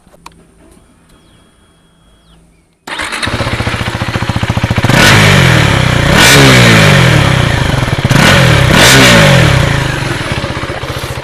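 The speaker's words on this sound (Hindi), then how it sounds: "आपको सुना देते हैं इसका एग्जॉस्ट नोट" After a quiet start, a KTM Adventure 390 motorcycle engine fires up loudly and revs repeatedly, the exhaust note rising and falling in several sharp blips.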